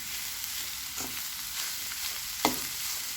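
Mashed cooked jackfruit stirred into a frying pan for a Kerala-style jackfruit thoran, with a steady low sizzle and soft scraping stirs, one sharper clack of the spoon near the end; no voices.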